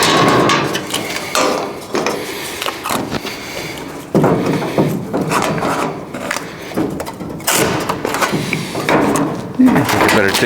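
Sheet metal firewall panel being bent by hand while fabricating a smooth firewall for an El Camino, loud irregular metallic clanks, knocks and flexing rattles, with brief speech among them.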